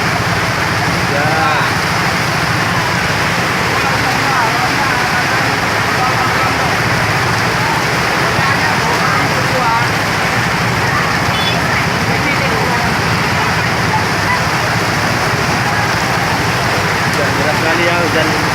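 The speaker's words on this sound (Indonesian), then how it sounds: "Deras sekali ya hujan." Heavy rain pours down on a traffic jam in a steady, dense roar that fills the whole recording without letup, with faint voices now and then beneath it.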